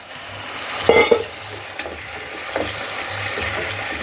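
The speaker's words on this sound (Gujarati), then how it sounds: "આ લાલ ચટણી મેં આદું લસણ ને લાલ મરચું નાખીને વાટી છે એ નાખું અને એમાં થોડું પાણી નાખું" Ground ginger, garlic and red chili chutney with a splash of water hitting hot oil in a pan for vaghareli khichdi, a loud close sizzle with spoon scrapes and stirring clatter, no talking.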